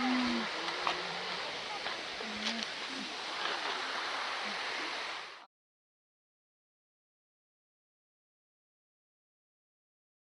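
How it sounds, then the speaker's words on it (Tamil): River water rushes steadily near Perumbankuthu Waterfalls for about five seconds, a close, constant roar with scattered splashes, then cuts off abruptly to silence. "தண்ணி சத்தம் எப்படி கேட்குதுல்ல?"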